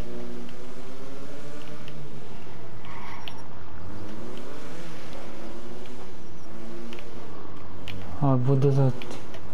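Beetle-style Weevil car engine in GTA 5, revving with rising and falling pitch sweeps under ongoing conversation, loud and close, with a brief harsher burst near the end.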